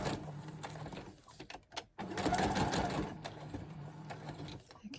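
A sewing machine stitches cream thread onto a junk journal page with a steady, close mechanical whirr. It pauses briefly partway through and then runs on.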